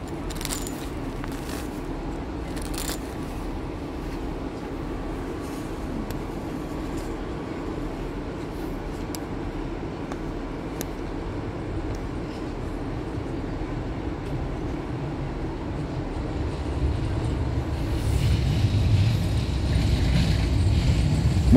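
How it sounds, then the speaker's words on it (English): A tram rolls past at Meadowhall Interchange, a steady low rail rumble and wheel noise that swells louder toward the end as it draws near, with no voices. "Here comes the secret super tram."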